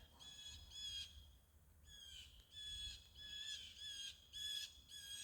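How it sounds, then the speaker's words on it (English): Harsh, high-pitched bird squawks in a historic cemetery in Bath, Maine in October, repeating in bursts, several calls overlapping at close range with no talking. "Birds are having quite the wild time right now, as you can hear."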